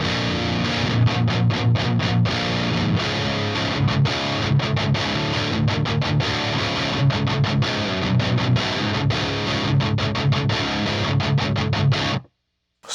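A heavily distorted electric guitar through channel 2 of a Leviathan amp with no boost plays loud chugging riffs with sharp palm-muted stops, ending in sudden silence.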